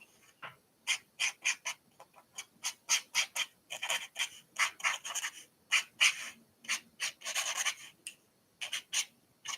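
Scratchy rubbing strokes from painting come in quick, irregular bursts close up, one after another with short gaps, fairly quiet and with no voices.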